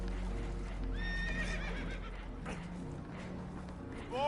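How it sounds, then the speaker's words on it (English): Spooked horses whinny in loud rising neighs while hooves clop nearby, over a rumbling boat or engine background. "Horses are spooked"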